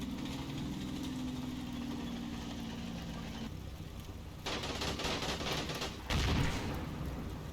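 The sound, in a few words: half-track engines moving, video game Combat Mission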